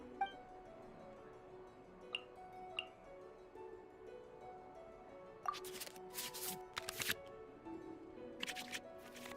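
Cards shuffled back into the draw pile in a Genshin Impact digital card game: a few soft chiming clicks, then quick bursts of papery shuffling and flicking, fairly quiet and close.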